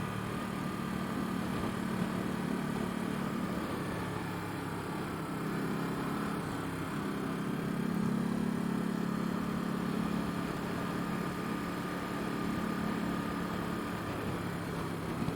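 A motorcycle engine drones steadily while riding along Doshi Road, Route 413 in Japan, with constant wind and road noise and no talking.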